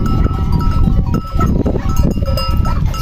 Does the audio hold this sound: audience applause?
no